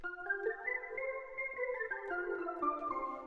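A synth bell preset named Happy from the Genesis Volume 2 bank plays a gentle, chiming melodic line of overlapping bright tones, soft and steady throughout with no voices.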